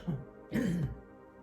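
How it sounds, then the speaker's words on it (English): A woman with allergies clears her throat and coughs: two short, raspy, throaty bursts close to the microphone, the second longer, with quiet room tone between them. "Sorry about my coughing."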